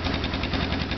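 A Honda FourTrax 300 ATV engine, freshly fitted with a piston kit and new rings, idles steadily up close with an even, rumbling chug and light knocking rhythm, loud and continuous with no talk.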